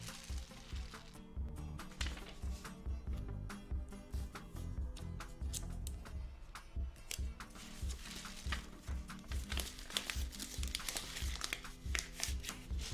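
Paper crinkles and tape tears and rustles while the end of a paper tube rain stick is sealed, making a long run of close, uneven crackling handling noises.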